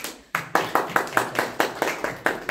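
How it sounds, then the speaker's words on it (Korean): Audience clapping at a lecture, a series of distinct, evenly spaced claps in a steady rhythm, about eight sharp, close hits in a row. "이 부분에 박수 한번 치고."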